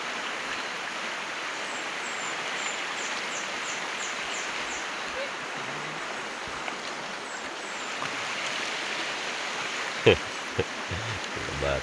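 Rushing stream water flows steadily in Davao Oriental, a continuous wash of moving water heard nearby, with faint birdsong and brief voices breaking in near the end.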